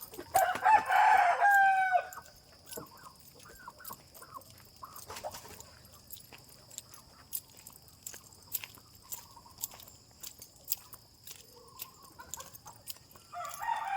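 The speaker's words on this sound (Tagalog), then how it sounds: "Malakas na yung tumaok." A rooster crows loudly once at the start, followed by quieter clucking, rustling and scattered ticks, with another faint call near the end.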